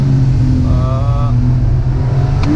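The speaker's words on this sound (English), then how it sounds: "Tunnel does sound good. Sounds very washy." A Porsche 911 GTS Targa engine drones steadily inside a tunnel, a loud, washy, reverberant rumble held throughout with a brief whining tone in the middle.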